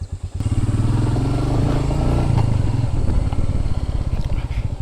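Royal Enfield motorcycle engine idling and running close by, a steady deep thumping rumble that holds loud throughout with a slight rise in revs midway, no voices over it.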